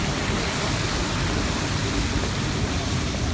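Rain falls steadily on a city street in Pyongyang, a dense, even hiss of broadband noise holding at constant loudness with no breaks and no voices heard.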